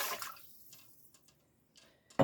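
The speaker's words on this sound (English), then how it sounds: "Now I'm just going to add enough water down to the inside of the Instapot Max." Water poured into the inner pot of an Instant Pot Max for pressure canning: a short splashing pour at the start, near quiet in between, then a sharper burst of water at the end, with no talking.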